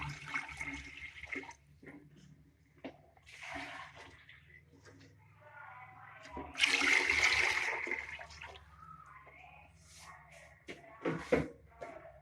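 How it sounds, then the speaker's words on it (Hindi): Water is poured into a cooking pot over fried cumin for rice, with a gushing splash of pouring at mid-clip amid scattered kitchen clatter and intermittent speech. "अब इसके अंदर पानी ऐड करेंगे।"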